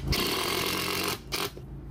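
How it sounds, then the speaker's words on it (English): A power tool drives screws into a soft camper floor during a DIY repair, a loud steady whirring buzz running for about a second before cutting off, followed by a shorter second burst close by. "Now what we're gonna do is we're gonna screw it down and we should be good to go."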